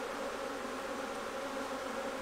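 Honey bees shaken from a hive frame make a dense, steady buzzing swarm, close and continuous throughout with no voices.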